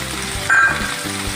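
Ground mustard paste dropped into a pan of yam and spinach curry, a sudden louder burst of sizzling midway over a steady background fry, close and without any voices.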